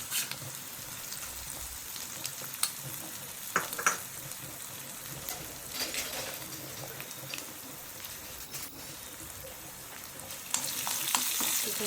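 Red chilies, chana dal, urad dal and cumin sizzle and fry in hot oil for a tempering, a steady crackling hiss with occasional louder pops and stirring scrapes, close and alone without talk.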